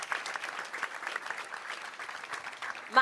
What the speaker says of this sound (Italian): un applauso grande per Serena e Marco